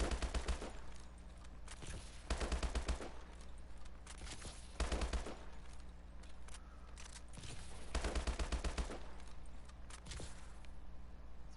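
Assault rifle fire in a first-person shooter video game, loud bursts of rapid automatic shots repeating in several clusters with brief pauses between them, no talking.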